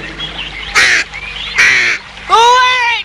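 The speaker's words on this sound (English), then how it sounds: "Go away, Jim Crow!" A crow caws three times in a row, each call loud and close with short gaps between, in a 1970s period film about witches.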